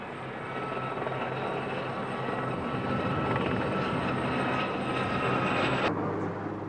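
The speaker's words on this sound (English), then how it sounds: "The centrepiece of the display is performed by the Lynx, still the holder of the world helicopter speed record." A Westland Lynx army helicopter flies an airshow display, its engine and rotor giving a steady, loud, continuous roar with a high whine that cuts off abruptly near the end.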